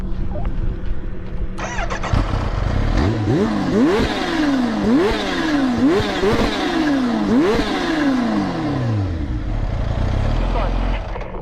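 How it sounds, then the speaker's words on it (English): A supercharged motorcycle engine revs hard several times in a row, rising and falling whines with a rushing supercharger induction note, loud and close. "what I really heard was the induction sound from that supercharger"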